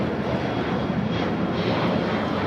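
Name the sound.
United Airlines plane taking off at LAX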